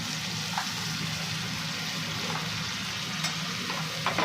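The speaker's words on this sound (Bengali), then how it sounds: "পেঁয়াজ বাটাটা দিয়ে দিলাম।" Steady, close frying sizzle of onion paste in a pan, with a few faint clinks of stirring over the continuous crackle.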